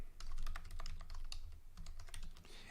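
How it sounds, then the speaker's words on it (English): Someone types a comment on a computer keyboard in a steady, fairly quick run of close, crisp keystrokes that continues without pause, with no talking. "all you have to do is type your comment here"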